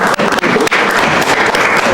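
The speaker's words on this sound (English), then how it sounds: "So, yes, I will clap for you." Audience applause at a community beautification panel review, loud continuous clapping filling the whole two seconds with a few brief dips.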